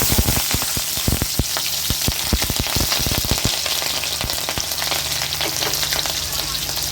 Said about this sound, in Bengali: দেখুন আমার তেলটা গরম হয়ে গেছে। এবার আমি দিচ্ছি 5 ফোড়ন।